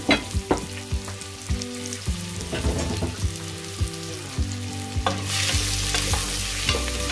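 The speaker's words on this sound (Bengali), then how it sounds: "এই পেঁয়াজগুলো শুধু তেলে ভাজা যাবে।" Onions fry in oil for polao with a close, steady sizzle broken by scraping stirs and clunks of the spoon against the pan, the hiss swelling louder near the end.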